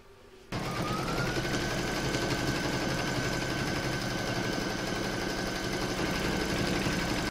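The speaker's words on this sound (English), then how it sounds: "I'm now going to pop that in my machine and stitch round number 2 to secure them." An embroidery sewing machine starts abruptly and stitches fabric in a steady, fast mechanical whir with a rapid needle rattle, running continuously and close by without speech.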